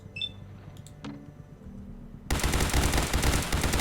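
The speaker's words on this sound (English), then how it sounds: "If you're crouched and you use this weapon in VATS, you'll see what happens to the rate of fire." Rapid automatic gunfire from a weapon fired while crouched in VATS in a Fallout-style video game bursts in loud and dense after a quiet stretch of faint clicks and menu tones.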